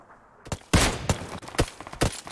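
Rapid gunshots from a PUBG Lite match ring out in loud, sharp bursts, several separate cracks spaced unevenly with one heavier volley near the start.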